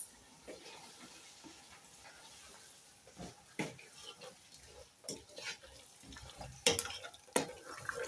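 Carrots being stirred into beef biryani in a pot: soft scraping and occasional sharp clinks of a spoon against the pot over a low background, growing more frequent toward the end.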